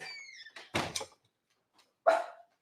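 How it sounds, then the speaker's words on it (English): A dog barks nearby in a few sharp bursts, with a short whine at the start, then a pause before one last bark. "Stop barking, Cody."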